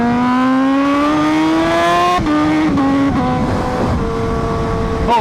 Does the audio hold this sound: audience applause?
no